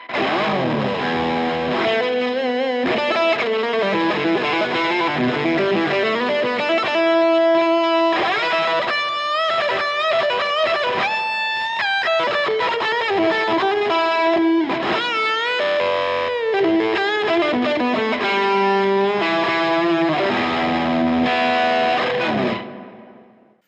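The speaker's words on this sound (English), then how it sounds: "I can just hit this button and it'll take me straight to a high gain overdriven sound" A heavily distorted electric guitar plays a lead line with sustained, saturated notes and quick runs, loud and continuous with no voices.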